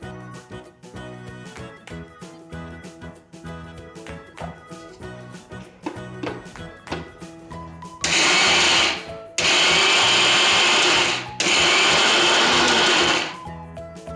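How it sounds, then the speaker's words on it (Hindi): A kitchen mixer grinder grinding soaked urad dal for dahi vada runs in three loud, close bursts of steady whirring, separated by short pauses, after a stretch of quieter background sound. "अभी मिक्सर में पीस लेती हूँ।"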